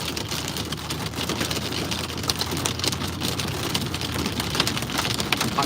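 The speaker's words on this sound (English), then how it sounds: "that's like nickel-sized hail here" Rain and nickel-sized hail pelt a surface during a storm in Saskatchewan, a dense, close patter with sharper impacts scattered throughout.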